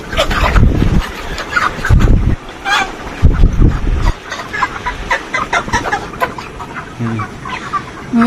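Many 43-day-old broiler chickens cluck and squawk inside a poultry farm shed, a busy, close flock sound with bursts of low rumbling noise and occasional louder calls.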